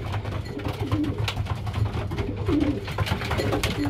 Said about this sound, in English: it's going to be a noisy night till all these birds settle down